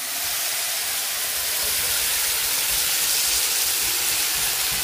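Ground spice paste hits hot oil in a pan and gives a loud, dense, continuous hissing sizzle that swells slightly over several seconds.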